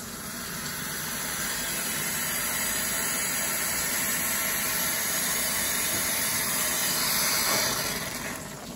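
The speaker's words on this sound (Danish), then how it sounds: "Og brokkoli lige et minut under låg i kogende vand." Broccoli cooking under a lid in boiling water, a steady steamy hiss and bubbling roar holding at an even level the whole time, close and without talk.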